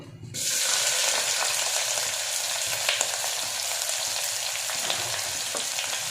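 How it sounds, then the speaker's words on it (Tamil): Chopped onion sizzles loudly in a pan of hot oil with cardamom for palak biryani, starting abruptly and holding a steady bright frying hiss with faint stirring scrapes throughout, no voices. "இப்போ கட் பண்ண ஆனியன் போட்டு"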